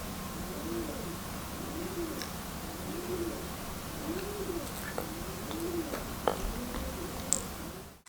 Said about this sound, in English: I don't know if you can hear the owl.